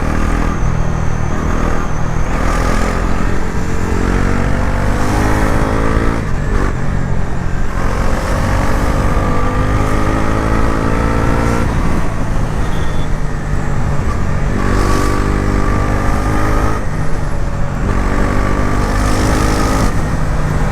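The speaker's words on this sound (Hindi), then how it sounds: "अभी थोड़ा सा ट्रैफिक में एंजॉय करो" A 2025 Bajaj Pulsar NS 400z moves through city traffic, its engine giving a steady, close drone with mild rises in revs, while surrounding road traffic hums along underneath and no one speaks.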